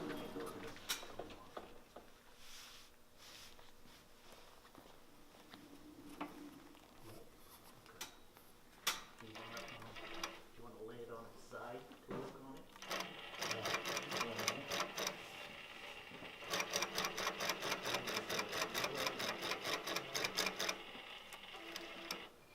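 A quilting machine running on an Autopilot Mach 3 setup ticks in fast rapid stitching bursts that grow denser and louder toward the end, under and between a person talking.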